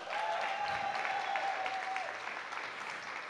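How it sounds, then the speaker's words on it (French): An audience applauding award nominees on stage at a women's honour gala in Mwali, dense steady clapping from a crowd that slowly eases off, with a thin whistle tone running through the first two seconds. "on les applaudit."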